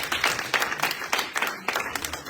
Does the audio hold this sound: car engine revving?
no